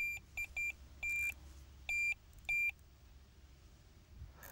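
Sharp electronic beeps from a Delkim Tx-i Plus cordless fishing bite alarm: a few short quick pips, then three longer beeps spaced apart, over quiet background hiss.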